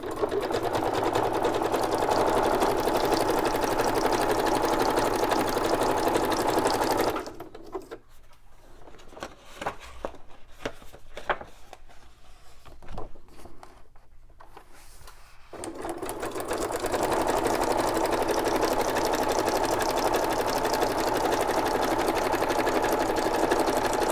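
A sewing machine zigzag-stitches around the edge of a fabric journal cover, a steady close mechanical whir that runs, stops for a quiet stretch of small handling noises, then starts up again.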